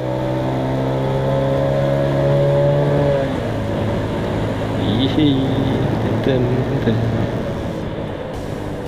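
A car accelerates on a winding mountain road to overtake another car, a steady engine drone rising in pitch and loudness, with a passing vehicle's whoosh midway, heard from inside the car.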